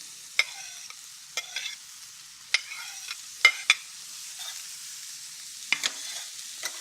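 Diced celery tipped onto translucent onions sautéing in a pan, giving a few sharp scraping and tapping bursts over a low, steady sizzle, with quiet gaps between strokes.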